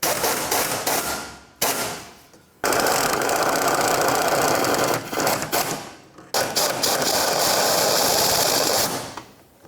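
Power tool snugging the rear upper shock bolts on a 2006-2012 Ford Fusion, heard as loud, close rattling bursts of a few seconds each, broken by short pauses.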